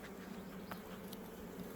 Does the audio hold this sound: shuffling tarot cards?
no